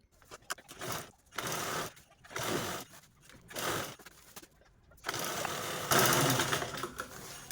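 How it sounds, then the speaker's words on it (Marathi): A sewing machine stitches a zipper onto a blouse piece in short rattling bursts separated by pauses, then runs in a longer continuous stretch near the end, fairly close and moderately quiet. "तर अशा प्रकारे आपण ही झिप स्टिच करून घेतलेली"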